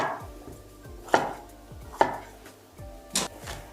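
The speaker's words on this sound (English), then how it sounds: "the rest is just going to be chopped up roughly and onto the tray" A knife chops capsicum on a board in a home kitchen, three or four sharp, close cuts at uneven intervals, alone without talk.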